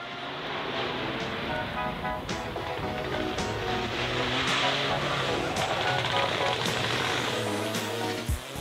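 Opel Corsa Rally4 race car with a loud engine, a sustained harsh drone with shifting tones and sharp popping bursts scattered through, close and continuous.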